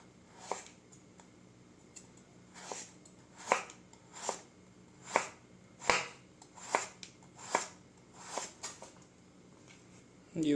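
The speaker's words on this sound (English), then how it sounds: "So let's start by cutting carrots into julienne." A knife slices carrots into julienne on a cutting board, giving about a dozen crisp, evenly spaced chops close up against a quiet background.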